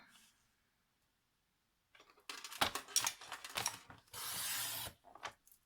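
Paper trimmer slicing album pages: after a quiet pause, a burst of close clicks, sliding rasps and a sustained scraping pass of the blade, then a few final taps.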